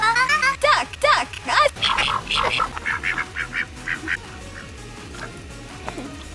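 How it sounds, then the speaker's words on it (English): A duck quacks loudly and close in a quick run of nasal calls, with voices heard among them, before the calls thin out and fade. "Duck."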